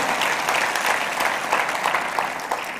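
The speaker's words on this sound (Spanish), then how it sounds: "Denle un aplauso al Rey bendito." Continuous applause from a church congregation, a moderately loud, even patter of many hands that ends with a brief louder bump at the very end.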